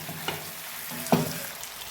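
Marinated chicken fries with onions and masala paste, a soft continuous sizzle broken by two brief stirring knocks; nearby and fairly quiet, with no speech.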